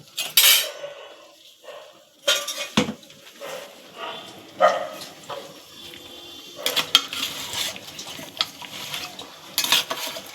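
A mutton curry with papaya and potato is mixed in a metal pot, with repeated clattering scrapes and knocks of a spoon in uneven bursts, close and fairly loud, and a faint sizzle underneath.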